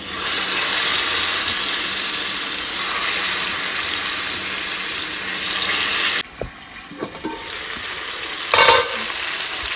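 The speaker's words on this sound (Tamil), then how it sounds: "தேங்காய் எண்ணெய் காஞ்சதும் நம்ம இந்த சிக்கன் எடுத்து அப்படியே போட்டு வேக வைக்க வேண்டியது தான்" Chicken pieces frying in hot coconut oil, a loud steady broadband sizzle for about six seconds, then dropping to quieter crackles and a brief clatter of the pan, with no talking.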